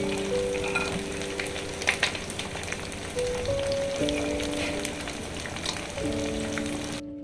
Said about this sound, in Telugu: స్టవ్ని స్లో మీద ఉంచి చికెన్ గోల్డెన్ బ్రౌన్ వచ్చే వరకు ఫ్రై చేసిన తర్వాత కొన్ని జీడిపప్పులు వేసుకోవాలి